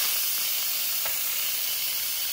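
Steady loud hiss of steam venting from an Instant Pot during quick pressure release while making tomato soup, a continuous rushing sound filling the whole stretch without talk.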